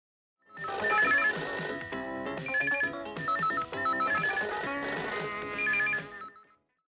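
A telephone rings for a live radio phone-in programme on World Radio Day, sounding as a bright electronic ringtone in repeated, evenly paced bursts that run steadily for several seconds, loud and close, with no talking.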